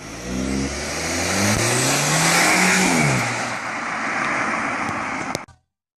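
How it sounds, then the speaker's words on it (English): Audi A4 with a four-cylinder supercharged diesel engine revving, a loud continuous drone that rises in pitch, peaks mid-way, eases back and then cuts off abruptly near the end. "we have the Audi A4, which is powered by a 4-cylinder supercharged diesel engine"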